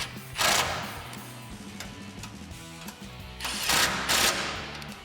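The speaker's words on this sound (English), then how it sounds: "we'll take a 13mm socket to tighten these down" Ratcheting 13 mm socket wrench tightening bolts on a Barricade HD stubby front bumper for a 2021-2023 Ford F-150, with rapid clicking bursts near the start and again toward the end and a mechanical clatter in between.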